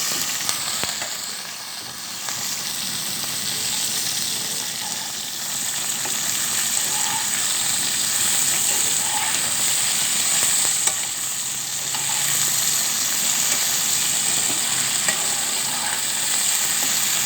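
Bitter gourd and potato pieces with a little turmeric frying in a pan, a continuous loud sizzle and hiss with soft stirring sounds throughout, steady and close, without any voices.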